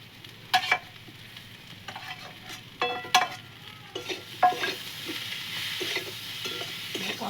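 Spring onion stalks are stir-fried in a pan for a carp curry with kohlrabi, a soft sizzle broken by several sharp scraping and clinking strokes of a spatula against the pan, close and uneven, without talk.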